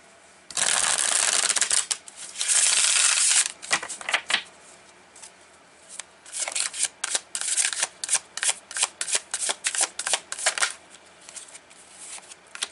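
Tarot cards being shuffled up close, two long riffling bursts followed by a quick series of sharp, rhythmic card snaps and flicks.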